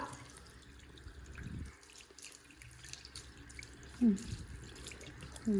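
Water runs from a household tap and splashes into a sink, with dripping and trickling that fades briefly and then resumes, fairly close and without talking.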